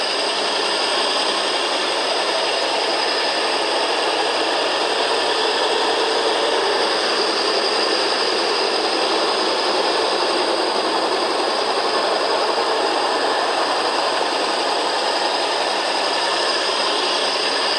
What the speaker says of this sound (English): Push the small button and the lever. And now you're grinding.